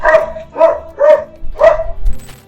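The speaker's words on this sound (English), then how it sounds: "a man runs back in fear while a barking dog chases him" A dog barks repeatedly as it chases a running man, giving about five loud, close barks in a fairly regular rhythm, with no speech.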